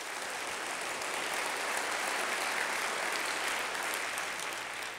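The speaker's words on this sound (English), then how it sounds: "Let's give Long Beach Unified and our EduCare partners a big round of applause for opening" Steady, dense audience applause at a civic State of the City address, sustained and even for the whole stretch with no voices rising above it.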